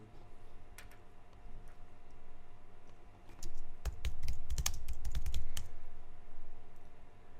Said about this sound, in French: Alors, je tape ici juste dans Google